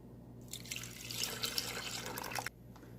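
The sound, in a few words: milk being poured into a blender jug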